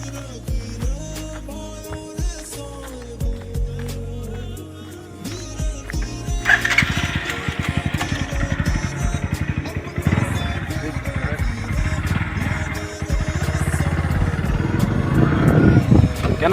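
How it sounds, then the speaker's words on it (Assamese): A motorcycle engine starts and then runs steadily during a ride toward Nagaland, its droning motor rising in level under music and voices. "বাইক ষ্টাৰ্ট কৰি যাওঁগে"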